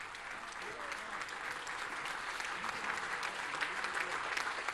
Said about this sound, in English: Give Donald Trump a big hand. Give him a big stand down, New Hampshire. Round of applause.